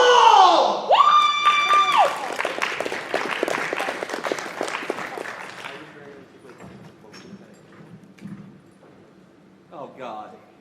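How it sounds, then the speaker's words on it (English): Audience at a furry convention amateur hour cheering and applauding loudly, with whoops and voices over a burst of clapping that fades after several seconds, followed by quieter murmuring and a brief voice near the end. "please give a round of applause for Paul!"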